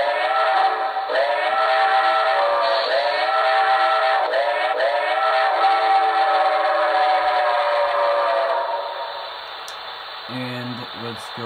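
A model Reading T1 4-8-4 steam locomotive chime whistle blows in several long, harmonic blasts, loud and close, before fading; a short burst of lower tones sounds at the end.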